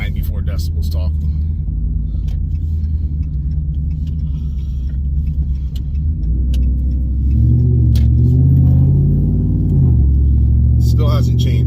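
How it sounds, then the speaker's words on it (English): Car with a new AWE exhaust, longtube headers and cam rumbling deeply at close range, building to a louder revving surge partway through, with a person talking over it. "Let me see if I can give it a little gas on here for you guys"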